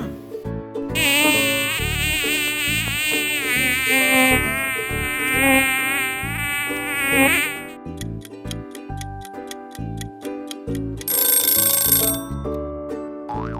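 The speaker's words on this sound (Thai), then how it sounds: "เสียงของยุงนั่นเองค่ะ" A high, thin mosquito whine rises and falls in pitch close by, followed by rapid ticking clicks and a brief burst of hiss.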